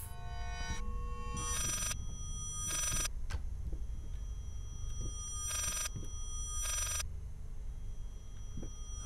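Eerie ringing in the horror game Layers of Fear, bright bell-like tones sounding in separated bursts over a low, murky ambient rumble.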